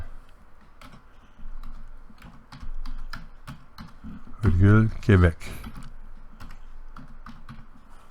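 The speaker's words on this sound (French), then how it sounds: "Puis, on va juste peser sur Enter, sur le clavier." Someone types on a computer keyboard while searching a map place name, with quick light key clicks scattered through the clip and a short spoken phrase in the middle.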